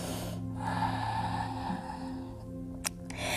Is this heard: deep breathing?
yes